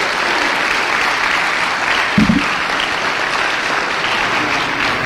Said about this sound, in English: So let's give them an applause as being seniors.